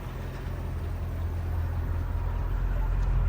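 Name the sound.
Mercedes CL55 AMG engine idling, no secondaries or resonator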